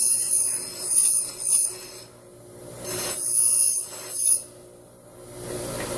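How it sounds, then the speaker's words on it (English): An angle grinder grinds the edges of a metal part in rough rasping bursts: one long pass, a short pause, a second pass, then a third starting after a brief gap. "edges are the hardest to hit with the grinder, just because of the angle"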